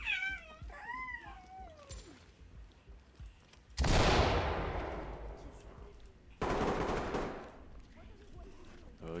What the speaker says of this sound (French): On m'a tiré dessus depuis l'extérieur, en bas.